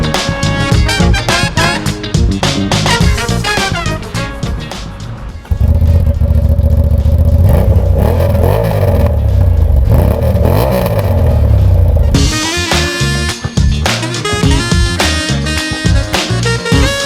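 A Royal Enfield Interceptor 650 motorcycle is ridden on the road from Nazaré to Lisbon, its engine loud and close, climbing through revs and shifting gears with a long steady drone in the middle.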